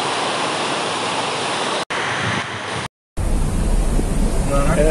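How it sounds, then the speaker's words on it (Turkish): The fast-flowing Fırtına Deresi mountain creek in Rize rushes loudly and steadily, a dense broadband roar of churning water heard close, broken by brief cuts. "Dere gerçekten de çok yüksek bir debiyle akıyor"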